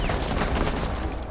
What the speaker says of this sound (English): It's only 20 shots in that gun, and Minard uses them all up.